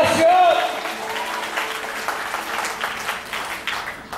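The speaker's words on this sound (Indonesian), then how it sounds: "Beri tepuk tangan buat Allah kita" Congregation clapping their hands in praise to God during an Indonesian church worship service: dense, steady applause that fills the room, with voices mixed in throughout.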